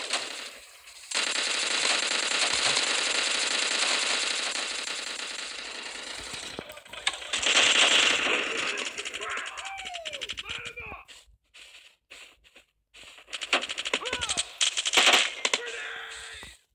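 Bursts of automatic Russian rifle fire in the Bullet Force shooter game, a long sustained stream followed by shorter clusters of shots, loud and close, with some speech mixed in.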